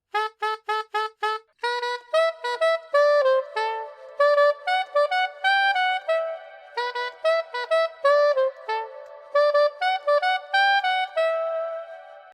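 Saxophone plays a run of short, crisply tongued notes, then longer phrases, each note starting with a sharp, clean attack.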